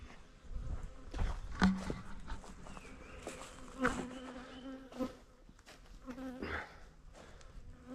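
Honeybees buzz around beehives in a barnyard apiary, a continuous close drone with individual bees swelling loudly as they pass near, no voices.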